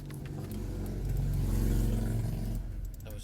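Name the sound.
car passing outside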